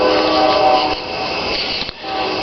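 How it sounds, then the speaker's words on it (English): A train passes close by outdoors, a loud continuous rumble with a tonal horn-like ringing that fades and shifts briefly, no talk over it. "the train that you hear behind us here"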